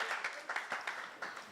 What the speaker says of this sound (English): Let's clap for Brian.